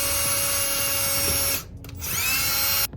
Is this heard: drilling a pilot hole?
yes